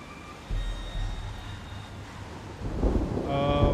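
Thunder rolls through a stormy night in the Outlast 2 horror game, a deep rumble with a sharper crack and building rain-like noise near the end.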